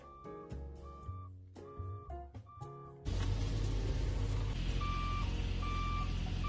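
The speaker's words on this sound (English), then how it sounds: "put one of the alarm things that go off whenever a big truck is backing up, and he attached it to my brakes" A car's brakes rigged with a truck-style reversing alarm set off steady, evenly spaced high electronic beeps that repeat over a loud, dense background.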